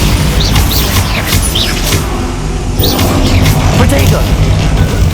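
Bombarda exploding spell cast in the video game Hogwarts Legacy, a dense loud burst and rumble sustained over several seconds amid battle clamor, with spoken voices over it.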